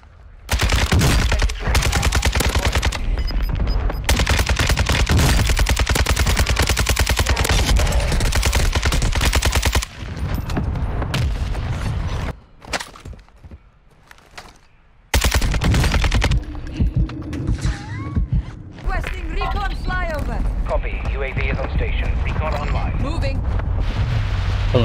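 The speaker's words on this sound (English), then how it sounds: "Target marked. Requesting fire mission." A called-in fire mission strike in the video game Warzone 2: long, dense barrages of rapid heavy gunfire and blasts, loud and continuous, breaking off briefly, then resuming with radio-style voices talking over it.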